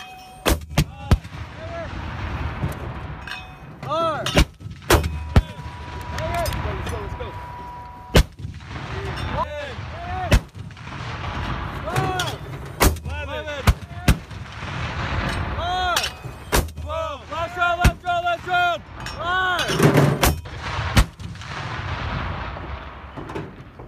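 Live rounds fire from an M252A1 81mm mortar on a range, a series of sharp, loud booming reports spaced a few seconds apart, with voices calling out between shots.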